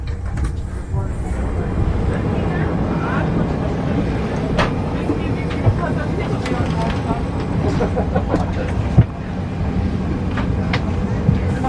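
Inside a Lufthansa Boeing 747 as it pushes back from the gate, a constant low cabin rumble carries on throughout, broken by a few sharp knocks and clunks near the end.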